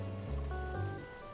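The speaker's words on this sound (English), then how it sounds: "It's pouring down and I feel the rain" Pouring rain in the video game CrossCode hisses as a dense, steady wash of patter with low rumbling underneath, continuous and moderately loud with no voices.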